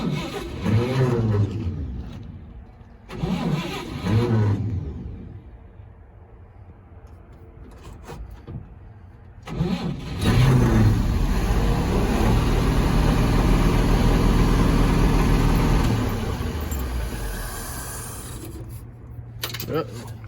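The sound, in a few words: 1964 Chevrolet C20 truck engine cranking and starting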